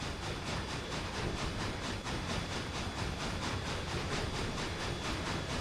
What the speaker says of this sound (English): Stand directly beneath that bridge while the train's going over.